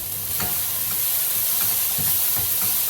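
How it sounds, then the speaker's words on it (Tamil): Meat frying with taco seasoning in a pan, a steady sizzle and hiss running throughout with a few soft stirring scrapes on top, close and continuous, no voices. "டாக்கோ பவுடரை போட்டு இதை நீங்கள் அப்படியே பொரிச்சு எடுப்போம்"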